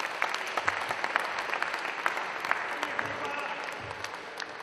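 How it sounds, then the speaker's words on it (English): An audience at a football league finals event gives a sustained round of applause for the tournament's behind-the-scenes staff, dense clapping close up with scattered sharp individual claps throughout. "So just a quick round of applause for the guys who help behind the scenes."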